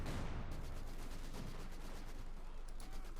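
Vickers machine gun fire in Company of Heroes 2, a dense continuous rattle of rapid bursts blending with other gunfire and battle noise throughout, loud and unbroken.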